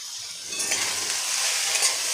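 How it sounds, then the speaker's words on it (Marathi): Onion sizzles steadily in a hot pan, close up, with soft stirring scrapes rising and falling over the frying hiss. "कांदा आपल्याला हलकासा सोनेरी रंगावर परतून घ्यायचा आहे"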